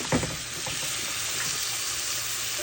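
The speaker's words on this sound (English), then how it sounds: "Let it fry for a couple of minutes" Guyanese kitcherie of rice, spinach and split peas fries in a single pot with a steady, loud sizzle and crackle, with a brief clatter at the start, then continuous frying noise up close.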